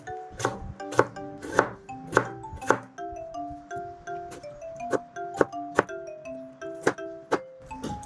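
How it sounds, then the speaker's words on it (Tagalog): A knife chops tomato, onion and garlic on a board in a series of sharp, close, fairly regular cuts over soft background music. "mag-iwa tayo ng kamatis, sibuyas at saka bawang"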